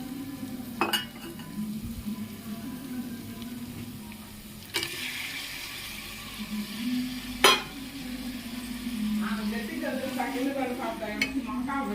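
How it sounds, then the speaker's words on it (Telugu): Onion, green chilli, ginger-garlic paste and masala frying in a pan with tomato for veg biryani, a steady sizzle with scraping stirs and a few sharp clinks of a utensil against the pot. "ఆనియన్, పచ్చిమిర్చి, మసాలా, అల్లం వెల్లుల్లి పేస్ట్ డీప్ ఫ్రై అయినాక టొమాటో వేసి"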